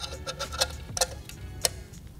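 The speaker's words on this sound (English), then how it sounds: "Take either a ratchet or a wrench that's 10 millimeters and tighten it down." A ratchet or 10 mm wrench tightens the lock ring on a Mini D2S 5.0 projector retrofit, giving a handful of sharp, close, irregularly spaced clicks over a quiet background.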